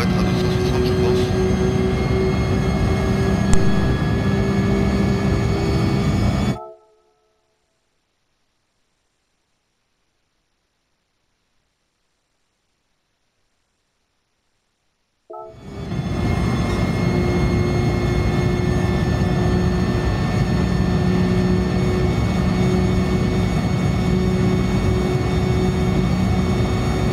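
Turbocharged car engine at high speed in the racing game Gran Turismo Sport, a loud sustained drone with steady whine that cuts to complete silence for about nine seconds, then resumes just as strong to the end.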